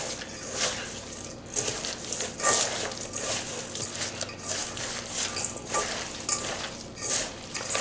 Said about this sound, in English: I'm going to start the mixing